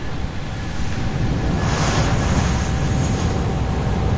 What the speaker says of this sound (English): Jeez, you hear them planes taking off and landing.